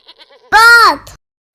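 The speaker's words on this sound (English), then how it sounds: "Goat." A goat gives one loud, wavering bleat up close, lasting about half a second between soft short noises.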